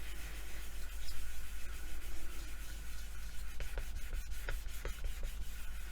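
A mica shift polymer clay pendant surface being burnished, giving a soft continuous rubbing hiss close up, with faint rhythmic scratchy strokes toward the end and no talking.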